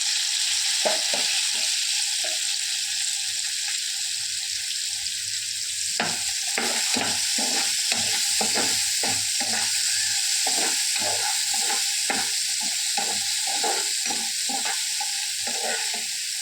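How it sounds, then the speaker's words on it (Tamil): Finely chopped large onion frying in sesame oil with potato in a pan, a loud continuous hiss and sizzle with a rapid run of rhythmic spatula scrapes and taps through the second half; close, no talking. "நான் நல்ல எண்ணெயில் உருளை வச்சு ஒரு பெரிய சைஸ் வெங்காயத்தை சின்னதாக வெட்டி வச்சுட்டு அதை சேர்த்துறேன்"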